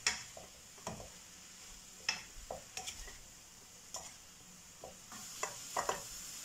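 Ground meat being stirred in a pan, with sparse clacks and scrapes of the utensil spaced a second or so apart over a faint sizzle, close and fairly quiet, no talk.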